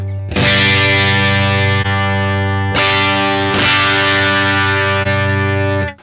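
Electric guitar played through a Mooer Radar amp and cabinet simulation pedal, loud sustained distorted chords ringing out in a few long strums, with the tone shifting as the cabinet simulation is switched on and off.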